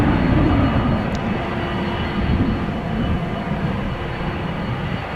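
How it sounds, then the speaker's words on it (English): Airbus A330 departing runway 18 Left at Amsterdam Schiphol during a storm: a steady, loud, broadband jet engine roar that holds evenly throughout, with wind noise and no talk. "Looks like our next departure from the threshold of 18 left is going to be this A330"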